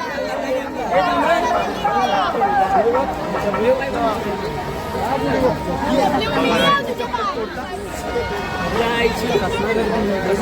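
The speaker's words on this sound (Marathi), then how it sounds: "गाईज पक्की गर्दी आहे इकडं" Dense crowd hubbub fills the Aai Chandika Mata village fair, a steady babble of many voices close by with nearby people talking over it.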